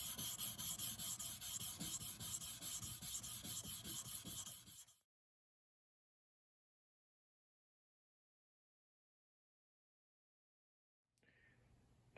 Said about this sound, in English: it's time to start hand sanding